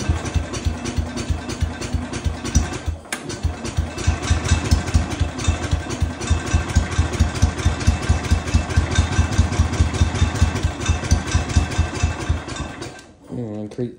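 A small Kohler engine on a Cub Cadet 105 snowthrower runs steadily with a fast, even chugging rhythm, loud and close, cutting off near the end.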